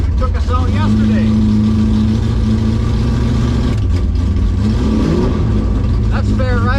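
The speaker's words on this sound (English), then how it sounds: "we're pulling into the burnout box" A 1965 Impala SS with an LS7 engine revs loudly and steadily up close in a drag-strip burnout box, its engine note rising and falling while a voice talks over it.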